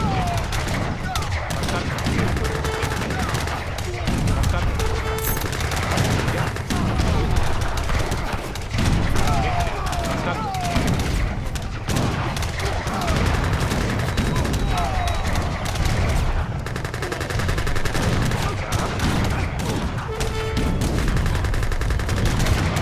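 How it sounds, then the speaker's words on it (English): Continuous battle din in Age of Empires 3 with the Napoleonic-era Wars of Liberty mod: cannon blasts and volleys of infantry musket fire crackle densely and loudly throughout, with scattered horse hooves and faint shouts mixed in. "we're getting some decent casualties here, like on the enemy side, just by using these cannons supported by the remaining infantry."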